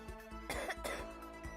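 A girl gives a couple of brief coughs and a throat-clearing sound close to the mic, over a constant low background hum.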